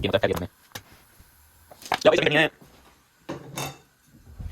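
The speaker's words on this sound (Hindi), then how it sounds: "अम्मा के जहेज के बर्तन ले आओ" Steel dishes and utensils clatter and clink in bursts as they are brought out for serving after cooking paratha and potato curry at home, with a voice talking between the clanks.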